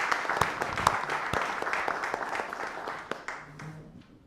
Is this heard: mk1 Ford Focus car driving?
no